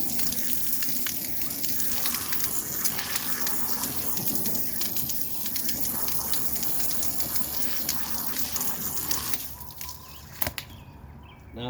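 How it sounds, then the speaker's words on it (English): Water and cleaner flushed out of car seat fabric with a cheap cleaning setup, a continuous loud hissing gush that runs for about ten seconds, then drops off into quieter gurgles. "Now I flushed the cleaner and the stains and dirt out of that fabric."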